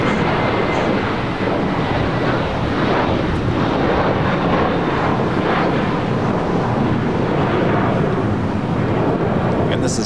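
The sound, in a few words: jet airliner, JetBlue flight 424, departing LAX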